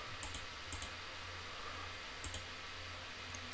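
Soft mouse clicks while painting foliage in Unreal Engine 5, a few quiet paired clicks spaced out over a low steady room hum, close and faint.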